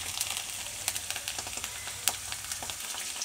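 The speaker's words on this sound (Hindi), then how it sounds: "गाजर प्याज को साथ के साथ भून लेंगे।" Carrots and onion sizzle steadily while frying in a pan for a cauliflower dry Manchurian, a close, continuous crackle with small pops and stirring scrapes and no voices.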